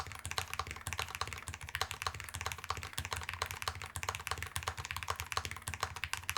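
Fast continuous typing on a Chosfox VERO75 low-profile keyboard with its gaskets removed, a dense run of close, crisp key clacks and thocky bottom-outs with no one talking.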